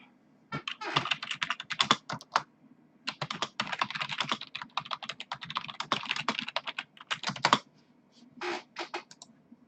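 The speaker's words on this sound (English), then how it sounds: "That's because I was typing" Rapid typing on a computer keyboard, dense bursts of close, crisp key clicks with brief pauses, continuing for several seconds alone without speech.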